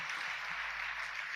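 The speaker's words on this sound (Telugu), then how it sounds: "కొట్టు గట్టిగా చప్పట్లు." An audience claps steadily at a church worship gathering in Chilakaluripet, a dense, even wash of applause filling the short moment without a break.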